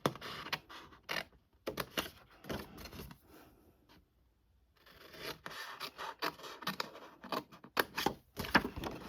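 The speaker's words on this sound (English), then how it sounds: "Okay, so now I'm going to cut up these score lines." Card stock being cut along score lines for a pansy petal gift bag, a run of close, crisp scissor snips and scratchy strokes in quick bursts, a brief pause in the middle, then more cutting.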